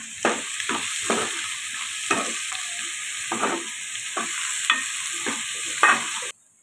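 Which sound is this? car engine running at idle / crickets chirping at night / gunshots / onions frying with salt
onions frying with salt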